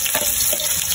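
Squid frying in a pan with onion, garlic and ginger, a loud close sizzle with stirring scrapes through the whole short moment.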